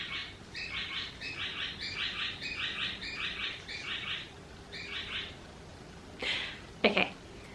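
A small bird chirps in a rapid series of bright, repeated double notes at moderate distance outdoors, followed near the end by a couple of louder rustling bursts and a brief voice.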